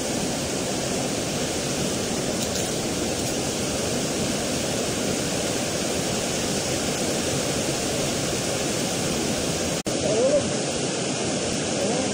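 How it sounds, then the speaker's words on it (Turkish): Waterfall on a stream, heard during a trout fishing trip: a loud, continuous broadband rush of falling water that fills the whole clip, with a brief knock near the end. "Harika şelale, harika."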